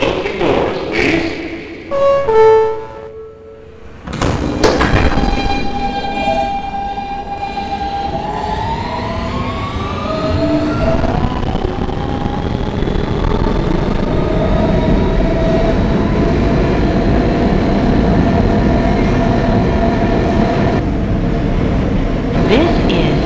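An R160B Siemens W subway train on the D line starts with chimes and door noise, then accelerates with rising electric motor whine into a loud, steady roar of running on the tracks.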